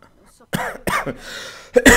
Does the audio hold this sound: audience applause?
no